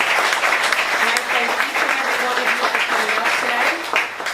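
An audience applauds continuously at a gathering about sex trafficking victims, a dense, even wash of clapping, with a voice speaking over it.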